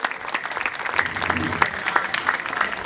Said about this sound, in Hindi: जोरदार तालियां इस सुंदर प्रस्तुति के लिए।